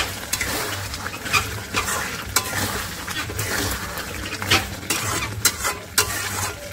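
Chicken curry is stirred in a pan after garam masala powder is added, a soft simmering sizzle punctuated by repeated sharp clinks and scrapes of a utensil against the metal, close by with no talking.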